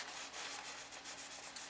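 A hand rubbing a glued paper heart-shaped treat box flush, a short, faint, steady papery swishing with no voices.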